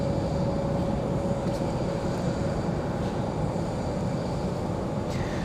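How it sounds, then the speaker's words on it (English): A Frontier Airbus A321neo spooling up its engines at the gate at Raleigh-Durham airport, a steady broad roar with a faint whine, continuous and moderately distant throughout. "So we have the A321 starting up"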